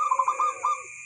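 A perkutut, or zebra dove, gives a short burst of soft, rhythmic cooing notes, clear and close, with a second phrase following right after and no voices around it.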